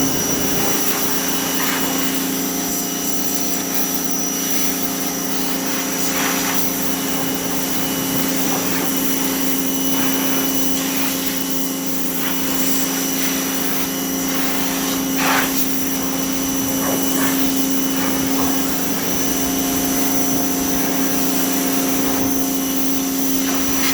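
A Hyundai HPW165B 2.2 kW high pressure washer runs steadily while cleaning a car wheel, giving a loud continuous motor whine with a hissing water spray, spattering bursts as the jet strikes the wheel, and no voices.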